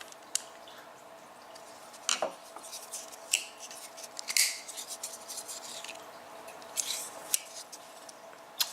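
Small metallic clicks, scrapes and taps from adjusting the pivot of a Cold Steel Broken Skull folding knife, sparse and close, with a few sharper ticks against quiet room tone.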